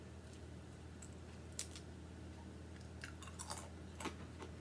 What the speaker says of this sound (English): Mmm, very crunchy.